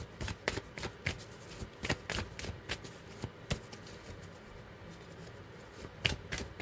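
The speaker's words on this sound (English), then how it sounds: "All right, let's get a good shuffle." Playing cards are shuffled close by, with soft riffling and repeated sharp snaps and taps as the deck is worked over and over.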